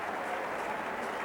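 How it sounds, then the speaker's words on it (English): A cricket crowd at an England v Australia Ashes Test match in Australia, 1986–87, applauds in a steady, even wash of clapping that sounds moderately distant and uninterrupted. "the crowd here rising to their feet and applauding what has been a magnificent effort"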